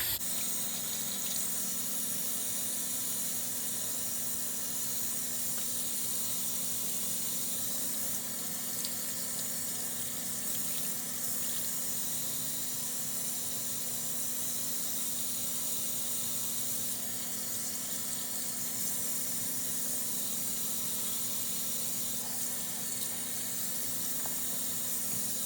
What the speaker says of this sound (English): I'm going to rinse it under warm water and making sure that I'm getting all the soap residue off of it.